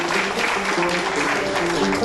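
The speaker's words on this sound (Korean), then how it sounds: "큰 박수로 맞이해 주시기 바랍니다" An audience applauds to welcome a contestant at the 2015 FameLab Korea science-talk final, with steady dense clapping that fills the hall for about two seconds.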